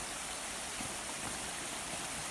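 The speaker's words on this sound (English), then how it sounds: "we've got a nice little stream to cross" A small stream along a hike near Seneca Creek in the West Virginia backcountry flows in a steady, broad wash of rushing water, close and constant, with no voices.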